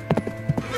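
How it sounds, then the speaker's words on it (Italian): A king's horse clip-clopping as he rides off, a few close hoofbeats in an uneven rhythm over a steady low hum, with no talking. "Montò a cavallo e partì."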